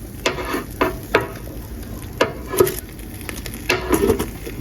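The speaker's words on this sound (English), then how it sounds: "a controlled char grilling. I'm turning them around now." Onions char grilling over heat while being turned, giving a steady low crackle broken by several sharp clacks and pops from moving them, with no voices.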